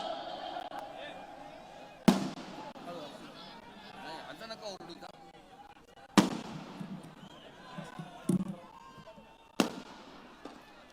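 Four sharp firecracker bangs burst a few seconds apart, loud and close, during a political speech, over a murmur of people talking in the background.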